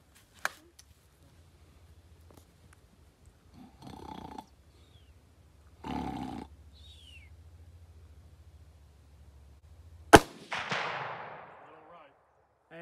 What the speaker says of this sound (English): Hey, Bradley, you're jerking the trigger. Supposed to hit it. Just squeeze the trigger.